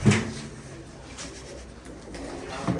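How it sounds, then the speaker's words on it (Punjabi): Soft, low pigeon coos close by, with a louder bird call at the start and end over quiet background noise. "ਰੱਖੀਏ ਦਾਣੇ ਕਬੂਤਰਾਂ"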